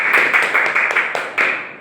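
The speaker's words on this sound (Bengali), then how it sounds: "জোরে একটা হাততালি হোক নাকি?" Audience at a club's Rabindra Jayanti celebration clapping for the club president, a brisk run of claps that swells in several bursts and then tapers off.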